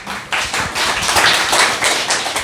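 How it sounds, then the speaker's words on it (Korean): Applause from an audience welcoming the next speaker at a political lecture rally in Busan, a dense, steady burst of many hands clapping close by, continuing for the full stretch with no talk over it. "프리즘 전은영 박수로 좀 모시죠."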